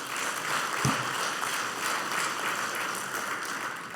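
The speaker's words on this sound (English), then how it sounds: "Laura gives us a good clap here" A congregation at a Friday sermon gives a round of clapping, a fairly soft, steady patter of many hands heard from a distance, continuous for several seconds.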